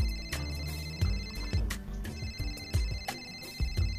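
A phone rings indoors in a repeating electronic ringtone pattern, a rhythmic series of bright tones with low thumping beats beneath, moderately loud, with no speech.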